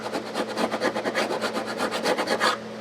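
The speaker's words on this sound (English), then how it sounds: "now we're going to hit it with the 300 grit side" Fret leveling on a Breedlove acoustic guitar with a 300 grit abrasive, a steady rhythmic rasp of back-and-forth strokes, about a dozen close, even passes that stop just before the end.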